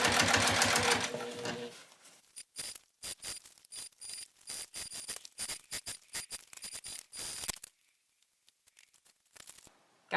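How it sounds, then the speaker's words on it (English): Domestic sewing machine stitching a seam, a loud steady whirring run at first, then short bursts of rapid mechanical clatter with pauses between them, close by and alone. "then I'm sewing it indeed down"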